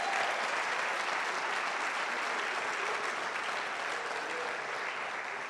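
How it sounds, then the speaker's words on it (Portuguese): A church congregation applauds in a dense, steady wash of clapping that holds evenly for several seconds, broad and reverberant, easing slightly toward the end. "Podia aplaudir Jesus."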